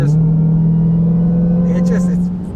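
A 2021 Dodge Charger Hellcat Redeye engine holds a loud, deep, steady drone that climbs slightly in pitch as the car accelerates, close and continuous until it eases near the end.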